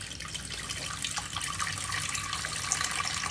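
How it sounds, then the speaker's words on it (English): Peas rinsed under a running kitchen tap, a steady hiss and splash of flowing water against the beans, continuous and close, with no voices. "So I wash some peas"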